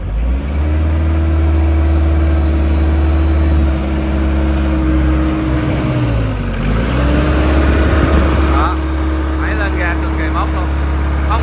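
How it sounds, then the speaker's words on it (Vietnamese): Iseki GEAS 53 tractor, a 53 HP four-cylinder machine, idling with a steady low engine drone that dips and then rises as the throttle is opened, while someone talks over it close by. "khói không gì nha máy nổ rất là êm nha mọi người"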